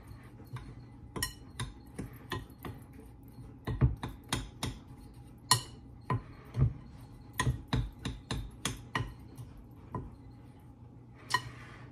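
Nutty brown bread ingredients being mixed by hand in a bowl, giving a run of sharp clinks and knocks of a utensil against the dish at an uneven rhythm, close and moderately loud, with no talking.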